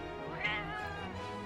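A voice imitates a cat's meow: one short, close, clear meow over a low, steady background, within a voice-acted fantasy narration about a monster hunt.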